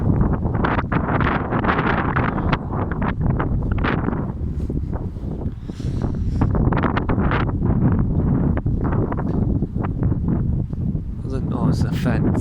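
Very strong gusting winds batter the microphone outdoors amid debris and a fallen tree, a loud, continuous roaring buffet with rustling, and a voice speaks briefly under it.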